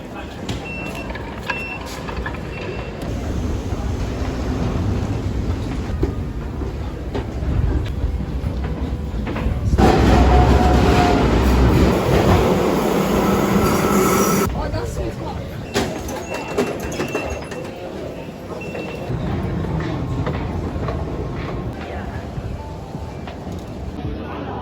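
An 11-coach passenger train runs with a broad, steady rumble that surges louder for a few seconds midway, then settles back to a constant roar.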